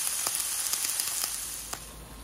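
Kebabs sizzle on a hot outdoor grill, a soft continuous hiss broken by a few sharp pops and crackles, close and fairly quiet with no speech.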